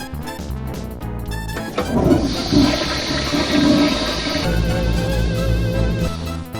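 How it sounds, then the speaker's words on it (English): In the Space Quest VI game, nitro rushes through tubing into a conduit, heard as a loud, steady gushing and whooshing flow that swells and then continues evenly for several seconds. "Nitro begins to flow through the tubing and into the conduit."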